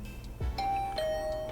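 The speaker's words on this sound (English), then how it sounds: "I'll ring the bell just in case." A two-tone ding-dong doorbell rings inside a video game, a clear chime with a sustained tone followed by a second lower tone, heard alone over a quiet game background.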